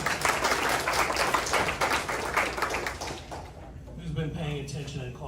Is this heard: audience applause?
yes